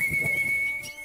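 A man gives a short, steady, high whistle to call tame house sparrows, a single near tone held for about a second over soft background noise.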